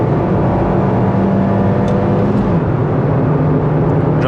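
A Nissan March 1.6 driving on a highway at around 130 km/h, with a loud, steady engine drone and road and wind noise filling the cabin and no talking.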